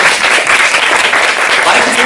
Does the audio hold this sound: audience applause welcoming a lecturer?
yes